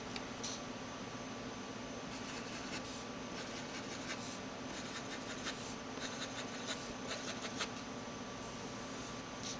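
A Pilot Varsity fountain pen writes on paper in quiet, close scratching strokes, soft bursts of nib-on-paper rubbing coming and going over a low steady background hum.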